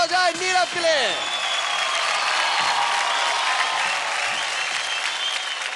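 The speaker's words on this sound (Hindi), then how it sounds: "जोरदार तालियां हो जाए नीरव के लिए।" Studio audience on the Zee TV dance show Dance India Dance Season 3 breaks into loud, sustained applause for dancer Neerav, a dense wash of clapping and crowd noise filling the whole stretch after a brief opening voice.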